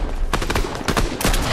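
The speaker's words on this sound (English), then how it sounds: "Someone's shooting me. We both keep missing each other." Rapid pistol gunshots in the Fortnite video game, a quick string of sharp cracks over about a second and a half, loud and close, with no talking.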